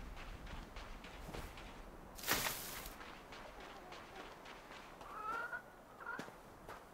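Chickens clucking in the video game REKA, a soft scatter of short clucks over a steady ambient game bed, with one brief loud burst partway through.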